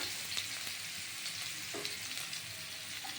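Onion and ginger paste frying in a pan for palong paneer, giving a steady soft sizzle with a few faint stirring scrapes throughout.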